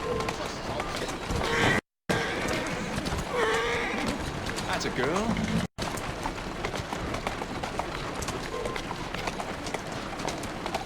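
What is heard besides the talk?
horse galloping in a video game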